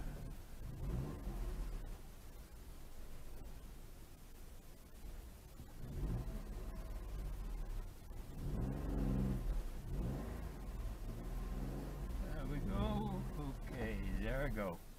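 A 2009 Toyota Yaris with a 988cc three-cylinder engine reversing into a driveway, its low engine hum and faint revving running quietly underneath a person talking.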